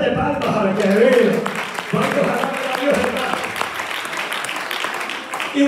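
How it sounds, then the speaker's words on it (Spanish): A church congregation at a morning service bursts into applause, with dense clapping running throughout as voices and other sounds carry over it, loud and close. "denle ofrenda de palmas"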